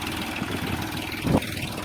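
A low tractor engine drones steadily at idle, fairly close, with a brief bump of noise partway through.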